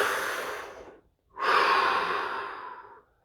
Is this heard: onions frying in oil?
no